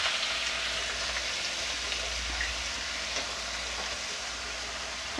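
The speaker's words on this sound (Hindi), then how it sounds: "इसे हम गोल्डन ब्राउन कर लेंगे अच्छे से भून लेंगे" Sliced onions fry over a high flame in hot oil with tempered spices for a soybean kofta curry, a faint, steady sizzle that holds at low level throughout.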